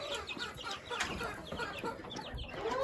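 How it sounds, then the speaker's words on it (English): Home-raised birds, including a naked neck chicken and a small turken, cluck and murmur in a busy overlapping chorus nearby, with scattered short calls rising over a soft rustle. "there's even a little turkin in there. A little naked neck chicken"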